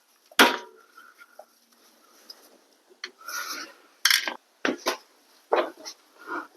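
A screwdriver pries at a clip in the slot on top of a worn strut on a 2010 Mazda 3, giving a sharp opening scrape, then several short raspy scraping bursts spread through the clip, near and fairly quiet.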